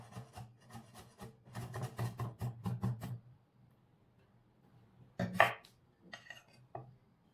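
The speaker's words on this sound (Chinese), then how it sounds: "下面把蒜切成蒜末" A knife chops garlic into mince for eggplant with garlic sauce, quick taps on a board in irregular bursts with a pause, then a louder clatter and a few more light cuts, close and alone.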